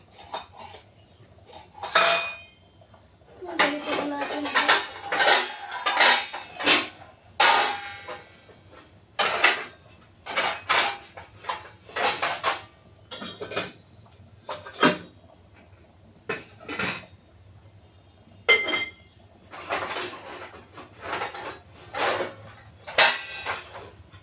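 Ceramic plates and dishes clatter and clink in a home kitchen during a search for a large plate, a long series of sharp, close clangs and scrapes in irregular bursts, with quiet gaps between handlings.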